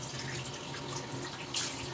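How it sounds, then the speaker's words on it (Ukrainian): Water splashes steadily over tiles during a limescale cleaning test, a continuous close hiss of running and spattering water with a brief brighter splash near the end. "Зараз я ще ці ділянки полью водою"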